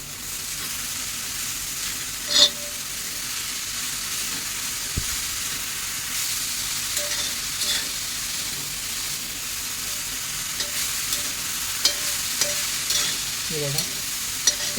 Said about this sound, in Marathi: आता ही भाजी आहे ना चांगली खाली वरती परतून घेऊया.